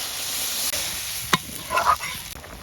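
Water poured into cooked-down spice masala for a katla fish bhuna curry sets off a close, bubbling sizzle, with sharp stirring scrapes and a couple of louder clanks against the pan.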